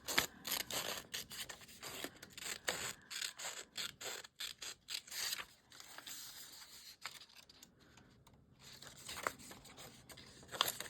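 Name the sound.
cutting a piece for a junk journal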